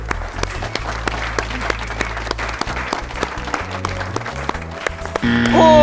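A studio audience at a spiritual TV show bursts into loud, sustained applause, dense clapping that runs for several seconds and is joined by a rising tone at the end.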